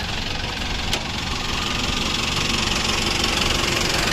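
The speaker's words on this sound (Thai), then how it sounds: "เดี๋ยวผมขับหกล้อไปนะฮะ" A six-wheel truck engine runs at a steady idle with a dense, even low rumble and faint knocking, close and continuous throughout, with one brief click near the start.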